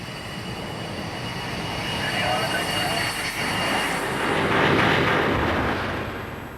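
A BAe 146 jet airliner slowing after touchdown at London City, heard from inside as a broad continuous roar of engines and rushing air that swells and eases, with no talking.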